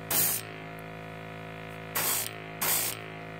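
Airbrush spraying primer onto Guild Ball Masons miniature figures, three short hissing bursts over a steady compressor hum, close and alone with no talk.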